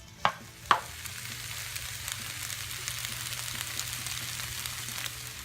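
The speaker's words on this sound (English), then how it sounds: "give it a good stir. And just cook this down a little bit for about 5 minutes" Corned beef hash sizzles steadily in a frying pan, opening with two sharp clinks of a utensil against the pan, followed by continuous crackling frying.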